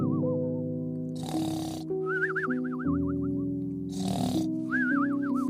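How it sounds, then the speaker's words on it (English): Two breathy snores from a hare in a children's audio story rise and fall over a playful music track with a warbling, sliding whistle melody. "He heard the hare snore."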